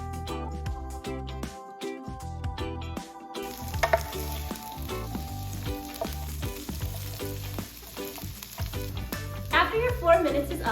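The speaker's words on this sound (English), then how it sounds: "add your 1 pound of green beans, your 1/4 cup of green onions, and you're going to stir that to coat in oil" Green beans and green onions fry in hot oil in a wok, a steady close sizzle and crackle under bright background music that swells toward the end.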